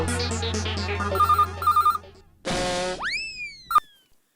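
A phone rings in an Indian TV comedy scene, sounding as a melodic electronic ringtone with quick repeated tones. Bright chime and sweeping boing-like effects follow, with no talk over it.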